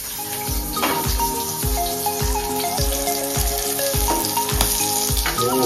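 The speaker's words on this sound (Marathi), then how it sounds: "जास्त वेळ नाही लागत पॉपलेट फ्राय होण्यासाठी." Rava-coated pomfret fish shallow fries on a tawa with a steady, crackling sizzle that runs throughout, set against a rhythmic thumping beat of background music.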